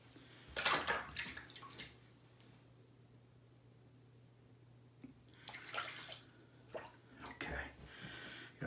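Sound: emptying a shaving lather cup of water

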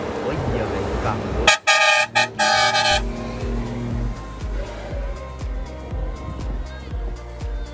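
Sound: car honking

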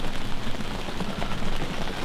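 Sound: rain falling outside a hunting blind

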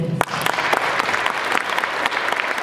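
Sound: audience applause in concert hall

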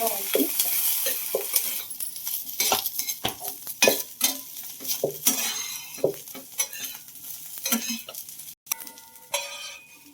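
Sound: cauliflower frying in oil on low heat

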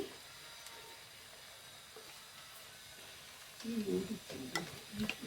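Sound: turmeric and chilli powder frying in oil

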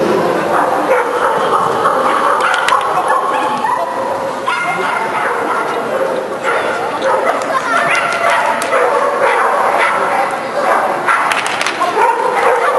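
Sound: dogs barking at an agility show

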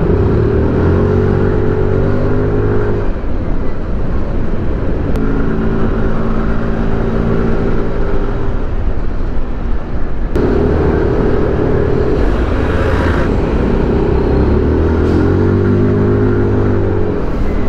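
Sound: road traffic at night in Bicutan

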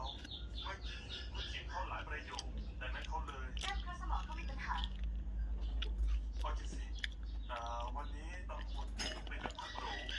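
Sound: chewing chocolate

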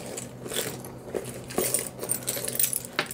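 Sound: keychain with many keys jangling

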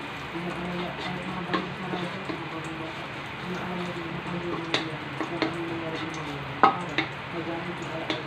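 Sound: rice being added to frying garlic in a pan

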